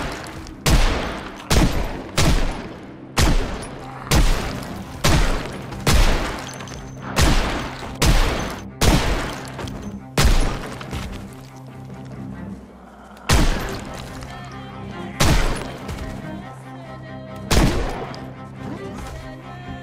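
Rapid gunfire from the Project Zomboid video game tears through undead zombies: loud, closely spaced shots repeat in a steady rhythm, with a few gaps and pauses between bursts near the end.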